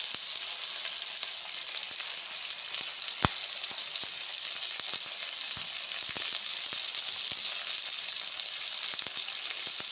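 Brinjals frying in oil in a pan for a rustic Telugu-style pullagura, a steady loud crackling sizzle throughout with scattered pops and one sharp clink of a utensil.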